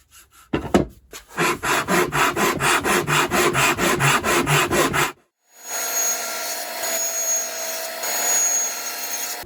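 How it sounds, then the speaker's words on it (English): Wood being flattened by hand on two sheets of 150 grit sandpaper while building a jewelry box, a rhythmic run of about a dozen close scraping strokes, then a pause and a quieter hiss with a faint whine. "2 pieces of 150 grit sandpaper I've secured to this, and I'm just going to flatten this bottom."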